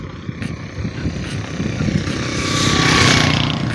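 A motorcycle rides through fog, its engine buzzing under a busy outdoor background and swelling louder near the end as it draws closer. No one speaks.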